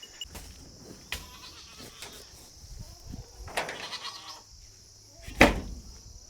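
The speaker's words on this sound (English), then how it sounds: "They got big goats." Big goats bleating on a farm, a few scattered calls of varying loudness with one sharp, louder bleat near the end, over quiet outdoor background noise.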